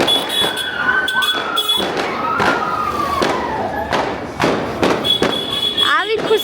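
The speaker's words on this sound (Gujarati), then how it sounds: "ઉપર ફટાકડા ફૂટે" Firecrackers burst overhead at an outdoor celebration, a string of sharp bangs and thuds at uneven intervals, with a whistling rocket and a crowd of voices cheering and talking throughout.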